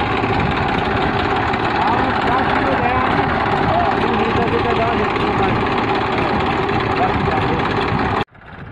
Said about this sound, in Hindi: बुआई के लिए बीज लेके जा रहे हैं, ट्रैक्टर आ गया है बुआई करने के